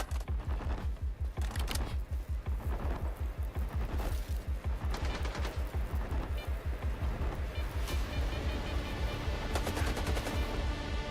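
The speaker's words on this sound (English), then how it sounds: "Stop shooting at me." Sustained gunfire from S.T.A.L.K.E.R. 2 on PS5 rattles in rapid, steady bursts of automatic shots, continuous and fairly close throughout, with brief pauses and a thicker cluster of fire near the end.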